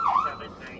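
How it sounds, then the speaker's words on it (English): A police squad car siren, from an unmarked car fitted with several siren types, gives a short, loud tonal sweep that falls and rises, then fades into a quieter wash over less than a second. "I have complete lights, front, back, couple different sirens."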